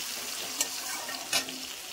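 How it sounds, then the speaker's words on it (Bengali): Chopped onions fry in a kadai with a soft, even sizzle, and two short scraping stirs stand out over the hiss, close by and fairly quiet. "এবার এটাকেও আমি একটু ভালো করে নেড়ে চেড়ে ভেজে নেব"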